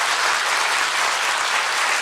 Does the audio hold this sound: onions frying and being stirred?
no